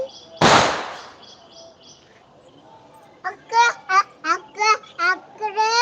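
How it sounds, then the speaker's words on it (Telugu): One loud, sharp firecracker bang near the start during Bhogi celebrations, then quiet background before a voice chatters in short bursts. "బాంబులు పేలుస్తున్నారా"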